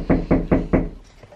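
Four firm, evenly spaced knocks on a house door, close and loud, followed by a faint fainter tap after a short pause.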